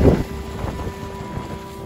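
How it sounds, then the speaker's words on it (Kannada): Strong, cold wind gusting across the hilltop at Baba Budangiri, buffeting the microphone with a loud rumbling blast at first, then a steady, blustery roar. "ತುಂಬಾ ಗಾಳಿ ಬೀಸ್ತಾ ಇದೆ, ಸಿಕ್ಕಾಪಟ್ಟೆ ಚಳಿ ಇದೆ"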